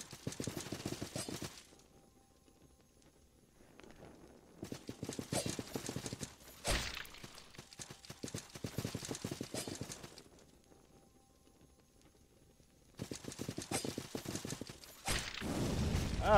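Horse hooves clip-clop in bursts of rapid rhythmic steps in the video game Salt & Sanctuary, separated by quieter stretches, with a sharp loud impact near the middle and another near the end.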